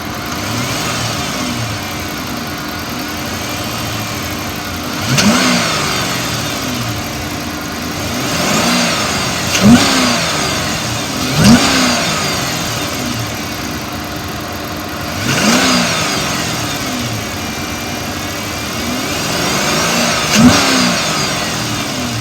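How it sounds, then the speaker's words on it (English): A 2014 Dodge Charger PPV police car engine, which has a slight rattle under acceleration, idles and is revved several times, first softly and then harder, with steady, loud rises and falls close by and no talk. "I'm gonna rev it up softly so you can hear it rattle, and then I'm gonna rev it up hard."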